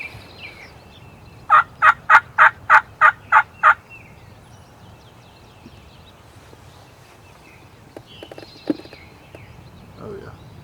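A wild turkey in a field lets out a rapid burst of about eight loud, evenly spaced gobbling pulses, then the outdoor scene goes quiet apart from a few faint distant calls and rustles.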